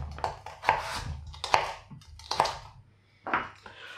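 Carrots are cut into matchsticks with a knife on a chopping board, close crisp chops falling in an uneven rhythm, four main strokes with lighter taps between, with no voices.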